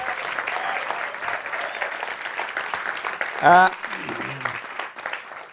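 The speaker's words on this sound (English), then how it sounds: "why don't we start by giving a round of applause for the audience, for everyone sitting there" Applause from an award ceremony audience fills the room, a steady rush of clapping. Partway through, a short loud whoop cuts in, followed by a brief voice over the clapping.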